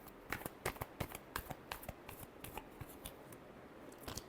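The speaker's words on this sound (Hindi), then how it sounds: "last shuffle" Tarot cards being shuffled by hand in a reading, a quick irregular run of crisp riffling clicks and soft flutters, close and fairly quiet with no talking.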